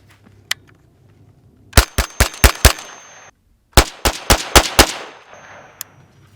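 An FN PS90 bullpup rifle in 5.7x28 fires one-handed on an outdoor range: a quick string of five sharp cracks, a short pause, then another rapid burst of five, loud and close with ringing tails.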